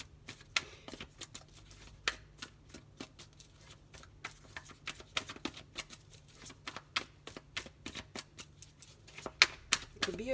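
Tarot cards are drawn and handled from a deck in a steady run of quick, crisp flicks and snaps, close and fairly quiet, with a low steady hum underneath.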